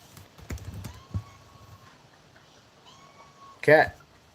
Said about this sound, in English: Cat is so whiny in the morning.